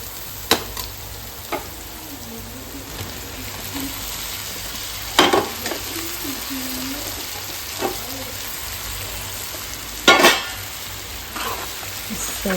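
Okra sizzles as it fries in a pan in a home kitchen, a steady crackling hiss broken by sharp clinks and scrapes of stirring at irregular intervals.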